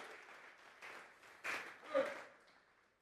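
A congregation at a Sunday church service claps and cheers under an ongoing voice, the applause swelling in bursts and then fading out.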